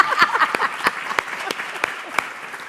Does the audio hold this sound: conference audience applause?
yes